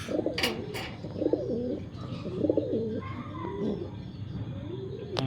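Breeding pigeons coo in a loft, several rolling low calls in a steady rhythm close by, with a couple of sharp higher clicks early on and no talk.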